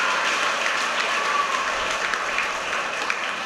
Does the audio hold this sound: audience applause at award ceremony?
yes